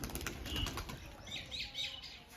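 Wings flap rapidly as a pigeon takes off, a soft fluttering whirr that rises and fades, fairly quiet, with no voices.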